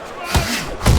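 A solid hook lands in the Fight Night Champion boxing game, Lennox Lewis against Vitali Klitschko, as a pair of dull thuds over arena crowd noise and commentary.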